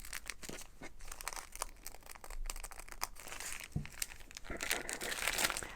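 Scissors cutting through fusible web and fabric for a quilt appliqué shape: continuous close crinkling and snipping with irregular crisp crunches, quiet and without speech.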